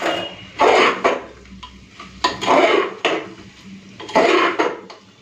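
Chicken being stir-fried with spices in a pan, a metal spatula scraping and clattering against the pan in three bursts of rhythmic stirring, close up, with quieter pauses between and no talk.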